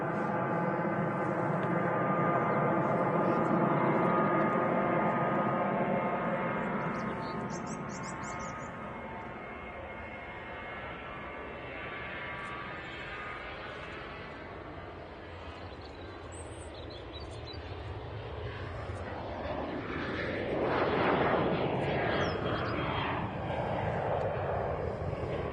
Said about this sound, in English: It's KLM 737 back to Amsterdam.